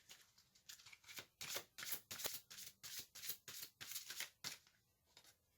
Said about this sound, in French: Je vais tirer une seconde carte.